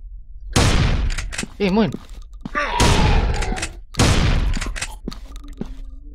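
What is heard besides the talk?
gunshots in a horror video game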